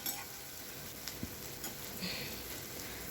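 Small tengra fish fry in a little mustard oil in a wok, giving a faint, quiet sizzle with a few soft stirring clicks and no talk.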